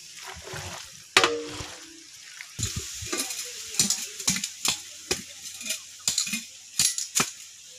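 Mango pickle being tempered and stirred in a pan: a steady sizzle of frying oil with repeated sharp scrapes and clinks of a spoon against the pan, close and loud, with no talk.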